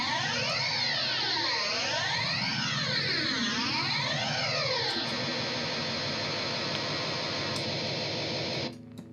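Cheap guitar run through a whole chain of distortion and inexpensive reverb effect pedals, producing a loud, dense, washing wall of noisy distorted tone with sweeping, swirling modulation, sustained steadily for about nine seconds before cutting off abruptly, with no talking.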